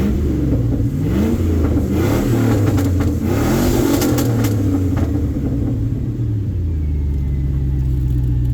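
Car engine with an electric exhaust cutout opened, revving loudly close by: deep rumbling rises and falls through a few throttle blips, then settles into a steady idle drone.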